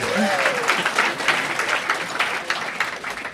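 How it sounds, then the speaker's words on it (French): A small TV game show studio audience breaks into brief, lively applause, clapping steadily for a few seconds at moderate volume. "Une bonne main d'applaudissements pour Olivia"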